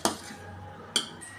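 A spoon clinks twice against a metal vessel while spice paste is stirred into milk for masala milk, two crisp taps near the mic with quiet between them.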